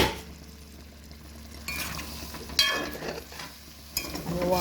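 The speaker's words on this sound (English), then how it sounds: "And you want to stir that as soon as you add it so that you don't get any lumps" Cornstarch is stirred into Jamaican curry chicken gravy in a pot, a spoon scraping and sloshing with faint sizzling and a few sharp clinks against the metal, close up with no talk.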